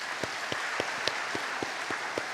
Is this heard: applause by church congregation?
yes